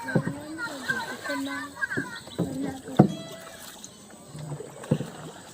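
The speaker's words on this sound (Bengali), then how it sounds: "আমরা এখন নৌকা চড়ছি" A rowboat moves along a village river, with light paddle splashes and water sounds under continuous talking from people aboard.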